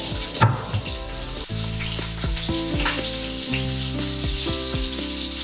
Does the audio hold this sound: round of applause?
no